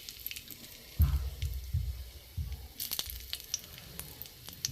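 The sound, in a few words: cinnamon, cloves and cardamom crackling in hot ghee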